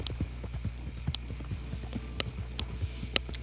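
Horse hooves clip-clop at a steady trotting rhythm in the video game Red Dead Online, close and distinct with sharp regular hoofbeats and a few higher clinks over a low ambient bed.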